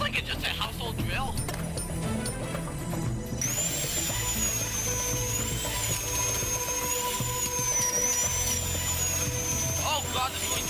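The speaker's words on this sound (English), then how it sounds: "Wait, is this like just a household drill?" A surgical drill in a surgery video game whines steadily with a wavering high pitch, starting abruptly a few seconds in and running continuously to the end, with game sounds and a person talking beneath it.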